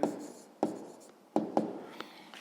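A pen or pencil writes numbers on paper in a maths exercise, giving four or five quick scratchy strokes, each starting sharply and trailing off, close and alone.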